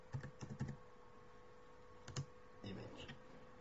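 Computer keyboard keys tapped in short clustered bursts at a desk, a few quick clicks then a pause and another flurry, close and moderately quiet over a low steady hum.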